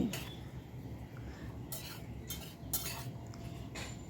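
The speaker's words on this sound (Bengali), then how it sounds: "কমিয়ে দিয়ে আবারও একটু ভেজে নিচ্ছি।" Mung dal being fried and stirred in a pan, with quiet background frying beneath several sharp scraping strokes of a spoon against the metal, close and fairly soft.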